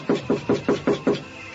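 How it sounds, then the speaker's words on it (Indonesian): Six quick, evenly spaced knocks land on a wooden door, close and firm, with no talking. "Biar aku coba mengetuk pintu ini."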